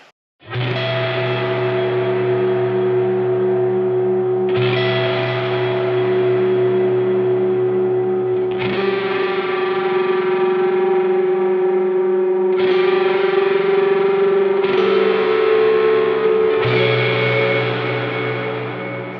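Sustained electric guitar chords ring out with shimmering chorus, echoing delay and spacious reverb, each chord swelling and blending into the next.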